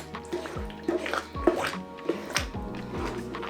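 Stock is poured into a pot of simmering stew for Ghanaian jollof rice, giving a liquid splashing and dripping sound in close-up under kitchen clatter with faint background hum.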